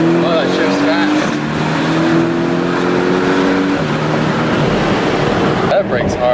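A Porsche sports car accelerates hard and shifts gears on a road, the engine note climbing in steady pulls with quick drops at each gear change, heard from inside the car with a voice speaking over it.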